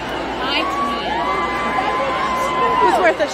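Crowd noise at a concert in Cincinnati, a steady roar of cheering and chatter with a few higher shouts, loud and continuous throughout.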